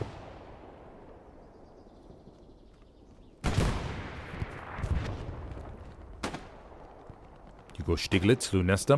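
MP40 submachine gunfire in the Hell Let Loose video game, sharp bursts and a rapid rattling run near the end, heard under a commentator's voice.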